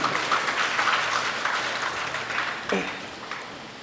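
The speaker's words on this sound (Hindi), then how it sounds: "तालियों से स्वागत करिए ना।" Scattered audience applause rises briefly at a religious scripture recitation gathering, a crowd clapping at moderate volume with some background chatter, then fades out.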